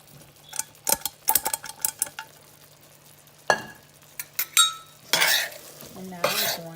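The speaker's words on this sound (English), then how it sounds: "And now we're going to stir it all together." Chickpeas and diced potatoes stirred into a curry in a pan, with scattered spoon scrapes and clatters against the pan over a faint sizzle, coming in bursts with brief pauses between them.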